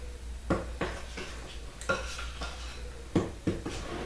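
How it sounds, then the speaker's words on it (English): Chocolate chip walnut cookie dough stirred by hand with a spoon in a bowl, with a series of close knocks and scrapes against the bowl at an uneven rhythm and no talk. "And we're just going to mix this in with a spoon."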